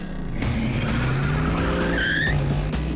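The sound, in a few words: muscle car accelerating hard toward a Corvette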